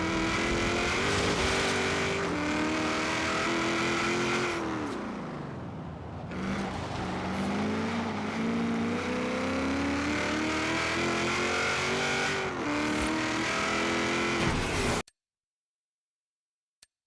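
Camaro engine in a street-racing video game roars loudly and steadily, dips briefly as the revs drop, then climbs again before cutting off abruptly into silence.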